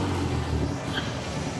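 A restored 1950 Chevrolet Fleetline Deluxe engine idles steadily up close, a smooth low rumble holding constant with no talk over it.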